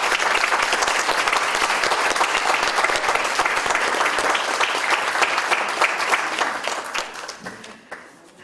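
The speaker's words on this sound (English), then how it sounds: "Give them a round of applause" Audience at a fundraising luncheon in Seal Beach applauds Legacy Circle supporters, a dense, steady wash of many hands clapping that holds loud for several seconds before thinning and fading out at the end.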